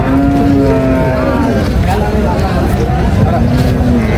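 A cow lows loudly and close at a busy cattle market, with drawn-out moos rising over a dense crowd babble and people talking nearby.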